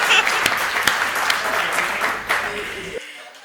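Applause from the audience at a Hindi comedy poetry gathering (hasya kavi sammelan), a dense wash of clapping with a few sharper claps, cutting off abruptly near the end.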